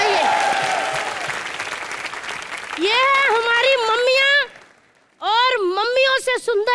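Studio audience applause at a live comedy show, a dense burst of clapping at the start that gives way to music and singing, the clapping continuing underneath.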